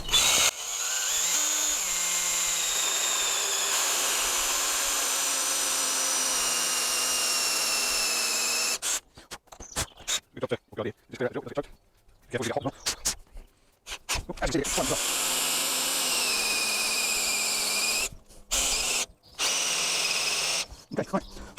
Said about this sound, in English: then we'll finish off drilling the other side